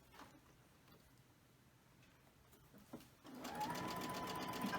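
A sewing machine stitches pinned quilt pieces together, starting partway through with a steady, close whirring run that follows a few faint clicks and handling sounds.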